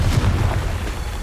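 A Confringo fire spell blast in the Hogwarts Legacy video game, a short, low rumbling boom that fills the moment and fades slightly, with no talking.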